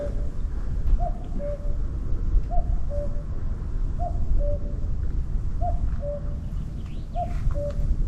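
Cuckoo in Torridon, Scotland, giving its two-note call five times in a steady rhythm, clear but set against a louder wash of wind and outdoor noise.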